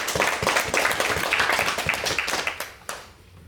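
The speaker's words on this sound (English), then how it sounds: "let's have another round of applause for Allison" Audience applause for a reader at a literary reading, with steady, dense clapping from a crowd that stays loud for most of the stretch, then thins out and tails off near the end.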